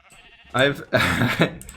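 Cows in Minecraft give a few short mooing calls close by, separated by brief quiet gaps.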